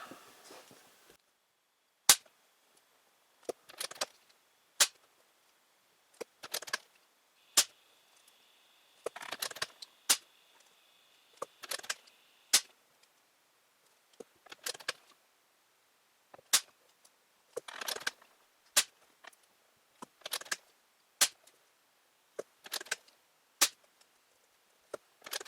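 Benjamin Akela air rifle fired on its low power setting after a 3000 psi fill, a long string of sharp, close, isolated shots spaced a second or two apart in a quiet setting, with occasional faint handling noise between them.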